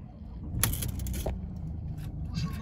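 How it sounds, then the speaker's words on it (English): A Mercedes-Benz C-Class C 220 d diesel coupe with automatic gearbox starts up from inside the cabin, a short crank and burst of clatter followed by a steady low idle rumble, with no talking. "I'll quickly turn the vehicle on so you can take a look."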